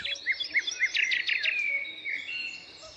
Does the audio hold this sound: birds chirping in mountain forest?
yes